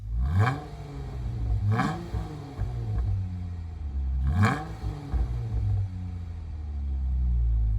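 A 2012 Jeep Wrangler JK engine with aftermarket exhaust and cold air intake revs hard three times with a deep throaty exhaust, each blip rising and falling over a steady low idle rumble.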